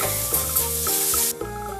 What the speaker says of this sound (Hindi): भुजिया खासतौर से छौंकते समय